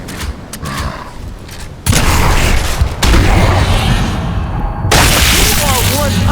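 Shotgun blasts in the video game Gears of War: a few loud, booming shots fired seconds apart over continuous game noise and background sound.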